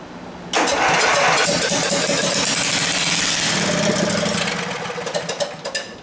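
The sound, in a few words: Ariens Emperor V-twin snowblower engine running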